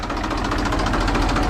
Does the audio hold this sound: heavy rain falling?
no